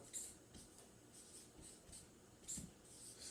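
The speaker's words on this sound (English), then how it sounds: "My black marker. I'll draw a line here to separate it." A black marker is drawn across a board in quiet, close squeaky strokes, several short swipes spaced out, faint and isolated.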